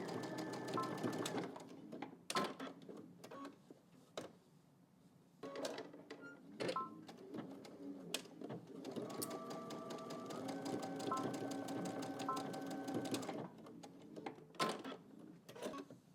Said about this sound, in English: now we're just going to go to the machine and we're just going to stitch 5/8 of an inch here